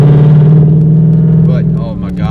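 A 2018 Mustang GT with headers, cold air intake, E85 and active exhaust rumbles loudly and steadily at close range from inside the car, its deep drone holding before easing off near the end.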